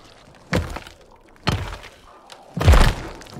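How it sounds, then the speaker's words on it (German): Explosions in the video game Dying Light 2 come as three separate, muffled booming thuds about a second apart, with the last one heavier and longer. "Da ist eine explodiert."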